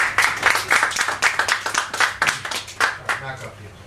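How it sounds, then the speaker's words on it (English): Scattered audience clapping at a poetry reading in a bar, a run of distinct hand claps with uneven rhythm, fairly close and moderately loud, with some murmuring voices beneath. "Knock off the applause."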